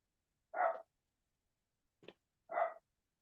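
A dog gives two short, sharp barks about two seconds apart, moderately near, with a faint tick between them and silence otherwise.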